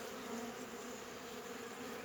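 Honeybees buzz in a steady, dense hum at an opened hive, close and continuous with no pauses.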